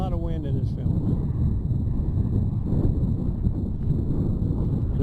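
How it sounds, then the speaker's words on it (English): Wind gusting into a microphone outdoors on a drive across rural Nebraska, a loud low rumbling buffet that persists through the whole span, with a faint tone near the start. "Sure, we're getting a lot of wind in this film."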